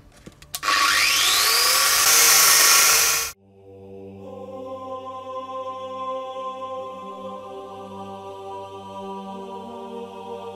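A power tool cuts through metal for a Viking spear, a loud harsh whine for a few seconds that stops abruptly, followed by a lower humming drone; no one speaks.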